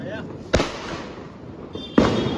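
Diwali firecrackers burst outdoors in two sharp loud bangs about a second and a half apart, with faint background voices and ambient noise between them.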